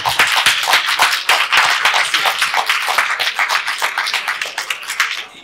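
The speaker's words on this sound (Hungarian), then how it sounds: "És egy nagy tapsot." A festival audience at a panel talk applauds steadily, dense clapping from many hands, loud and close, sustained for several seconds without speech over it.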